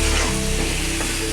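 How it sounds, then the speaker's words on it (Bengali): Pumpkin pieces frying and being stirred in a pan of cooked-down spiced masala, giving a dense, steady sizzle heard up close with no voices. "এখন মশলা কষিয়ে কুমড়োগুলো দিয়ে দিলাম, মিষ্টি কুমড়োগুলো একটু নেড়ে ছেড়ে দিব।"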